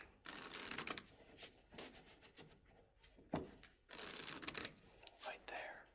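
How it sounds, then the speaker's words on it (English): Soft, close riffles and rubs of a deck of playing cards being shuffled in an intimate ASMR card-magic setting, arriving in quiet uneven bursts with faint breathy sounds between. "once again, when you feel satisfied, we will stop shuffling."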